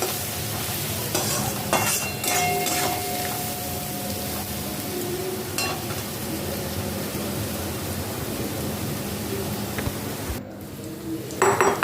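Stirring and frying in a pan for a Bengali cumin-paste curry, cooked until slightly reddened: a steady close sizzle runs throughout, with scraping spoon strokes and occasional metallic clinks of utensil against the pan.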